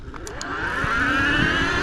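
A mid-drive e-bike motor whines and rises steadily in pitch as the rider holds the throttle in second gear, a loud, close electric drone that climbs smoothly without a break.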